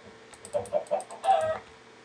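A chicken clucks in the video game Minecraft, a few short close clucks followed by a slightly longer squawk, clear and alone.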